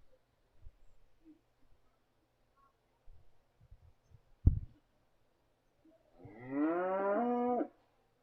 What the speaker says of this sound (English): Some fancy heifers in this class again.